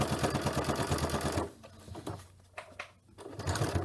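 A sewing machine run by foot pedal stitches fast and steadily at close range, stops briefly, then rattles back into its rapid mechanical rhythm; no talking.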